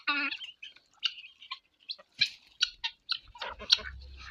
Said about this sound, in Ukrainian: злітаються кури та качки